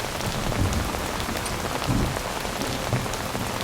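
Steady rain patters onto a surface, a dense, even hiss of drops close by that holds at a constant level throughout, with no voices.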